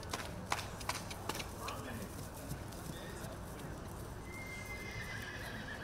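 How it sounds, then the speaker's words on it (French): Hooves of a big horse trotting at an auction chaser day, a few sharp clip-clop beats early, then steady low rumble of movement, with talk over it and faint birds in the background. "Voilà, Marmelot, qu'on va voir trotter désormais"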